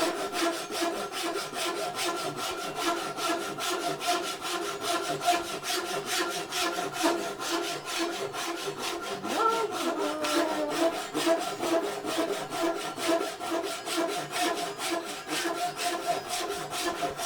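A hand saw cuts through wood in quick, regular back-and-forth strokes, each a rasping scrape, continuing steadily and close up for well over fifteen seconds with no speech.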